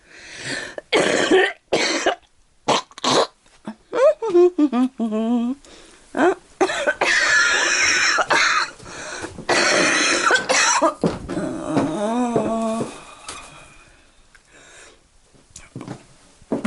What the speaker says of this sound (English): every time I cough my heart hurts